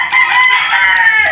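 A single loud, close rooster crow, one sustained cock-a-doodle-doo call lasting just over a second.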